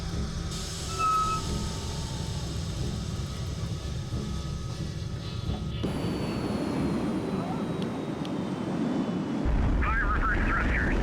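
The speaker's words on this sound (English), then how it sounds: "Fire reverse thrusters." Reverse thrusters firing on a landing aircraft in the game HighFleet, a loud sustained jet-like roar and rumble that swells and shifts midway, with a voice speaking over it.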